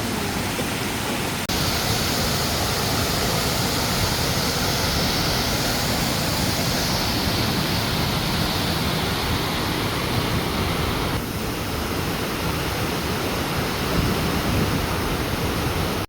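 A continuous loud roar of Sarika Waterfall, broad and rushing, unchanging throughout with no voices.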